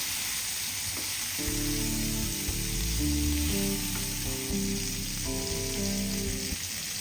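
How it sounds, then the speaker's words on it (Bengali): Rohu fish pieces sizzle and fry in hot oil in a pan, a steady crackling hiss with soft clinks as the pieces are turned over one by one. "মাছের এক পাশ ভাজা হয়ে গেছে এখন আমরা অপর পাশগুলো আস্তে আস্তে উল্টে দিচ্ছি"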